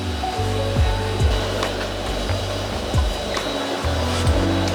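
A heat gun or hair dryer blows over a mosaic piece, a steady close whooshing hum that runs throughout with small shifts in pitch as it moves, no talking.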